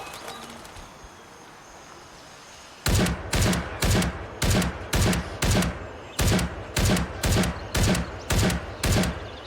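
Gunfire in Gray Zone Warfare striking an enemy's helmet, using SP ammo: after near-silence, a loud, steady series of about a dozen evenly spaced sharp shots fires in quick single-shot rhythm to the end.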